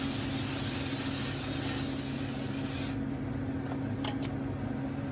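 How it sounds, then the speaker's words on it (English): Cooking spray hissing loudly from a can for about three seconds while greasing the bottom of a pan for cinnamon rolls, then a few faint clicks and scrapes in a quiet room. "grab yourself some cooking spray and grease the bottom of your pan."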